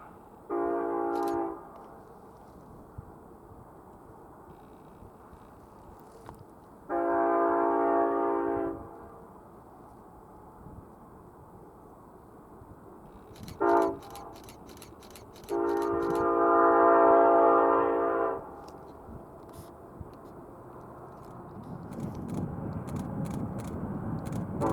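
A heavy coal train rumbles past steadily while its horn sounds in several long, loud blasts, the last rolling rumble growing louder near the end.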